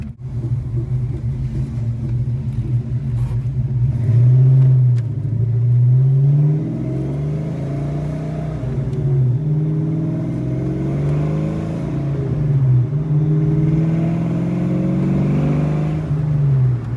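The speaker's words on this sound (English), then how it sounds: "So we're just gonna drive the car and see" Car engine revs and pulls away on the road, a close, loud rumble rising and falling through several acceleration bursts, with no talk over it.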